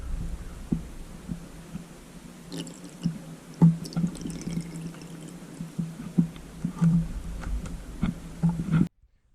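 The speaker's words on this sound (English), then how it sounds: "Let's go ahead and get us a little pour going." Russell's Reserve 110 proof single barrel bourbon poured from a one-liter barrel, a close, steady liquid trickle with soft gurgles and light knocks, no talking.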